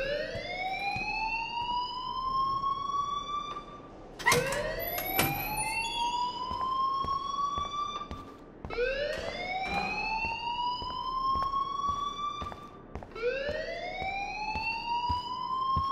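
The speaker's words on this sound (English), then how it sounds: "please turn off that alarm" A school fire alarm wails in the Life Is Strange video game: a loud rising siren tone sweeps upward in repeated cycles, about four in a row, with no one talking over it.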